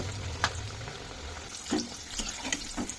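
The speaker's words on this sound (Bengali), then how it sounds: "এবার আমি কড়াইতে তেল গরম করে ওই ফ্রাইগুলোকে এখন আমি ভেজে নিচ্ছি।" Breaded bhetki fish fry cooking in hot oil in a wok, a faint, steady sizzle with a few soft pops and bubbling bursts.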